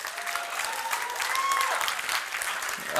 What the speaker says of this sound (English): let's have another round of applause for legendary Larry here